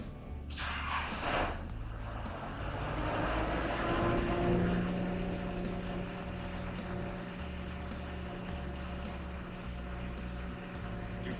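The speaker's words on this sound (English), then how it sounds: "Now I'm gonna start up the engine" A dual fuel GC1000 engine cranks and starts, building from a rough start into a steady, droning hum with low pulsing throb and a faint rising whine, moderately loud throughout.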